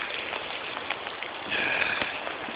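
Heavy rain pours steadily after a hailstorm that left hail covering parked cars like a layer of snow, a dense continuous hiss that swells louder midway, with no talk.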